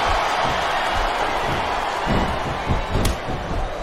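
A capacity arena crowd in the wrestling game SVR 2007 roars and cheers steadily, a loud, dense wash of noise with a few surges and a sharp slam near the end.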